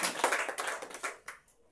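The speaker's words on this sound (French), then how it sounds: "Acclamons pour le voir." A church congregation applauds during a French-language worship service: a brief burst of dense, crackling clapping that thins out and fades toward the end.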